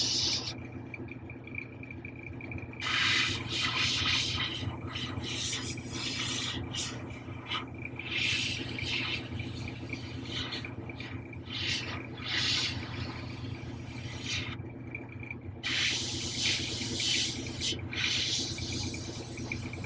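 An airbrush sprays paint onto the hands of a 1/4-scale Hellboy figure, a steady airy hiss that runs almost the whole time and grows stronger in short bursts.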